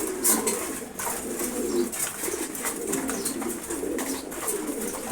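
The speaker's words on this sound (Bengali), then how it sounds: "রেড কালারের সুন্দর একটা কবুতর" A red pigeon coos close by in a loft, repeated low burbling calls with scattered clicks and rustles among other birds, no voices heard.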